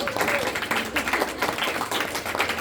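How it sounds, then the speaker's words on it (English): Audience at an open mic poetry reading clapping in a brisk, dense burst of applause from a small room crowd, continuing throughout. "Go, you're not supposed to clap till I'm done."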